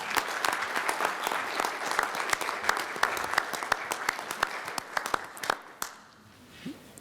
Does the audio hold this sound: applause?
yes